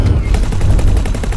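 Starship weapons in X4: Foundations fire in a fast rhythmic stream of loud, heavy, evenly spaced thumping pulses that sit close and forward, with no voices.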